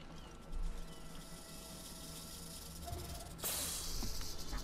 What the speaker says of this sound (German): Ich wurde gerade von der Schlange angegriffen.